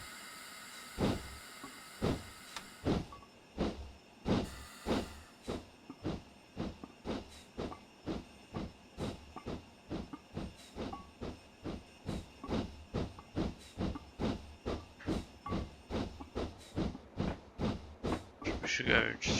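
A BR 4F Fowler steam locomotive in Train Simulator 2016 chuffing steadily, sharp exhaust beats that start slow, settle into a regular, quickening rhythm, with a hiss of steam behind them.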